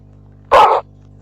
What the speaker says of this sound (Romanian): avem aici un cățel, este dresat